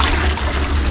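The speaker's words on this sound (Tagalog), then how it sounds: "Yung mga ganyang tubig na tumutubod sa mga batuhan" Spring water bubbling out of rocks on a Lantau Island hiking trail, a loud, close, continuous rushing gurgle with no voices.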